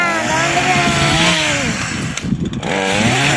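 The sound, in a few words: chainsaw cutting a tree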